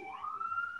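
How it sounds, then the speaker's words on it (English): A police siren rises in pitch and holds a steady wailing tone outdoors in Manhattan. It is faint and brief, as if from the background. "sorry if you're hearing sirens in the background, folks, but this is just the way it is when you live in Manhattan"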